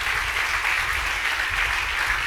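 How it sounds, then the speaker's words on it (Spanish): A church congregation claps in sustained applause of praise, a dense, loud and even wash of many hands with no voices heard over it. "Dale un buen aplauso de alabanza a nuestro Rey"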